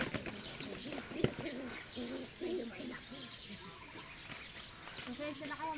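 Soft, low cooing of a white pigeon repeating in gentle rhythmic phrases, fairly close, with a faint voice and light background noise.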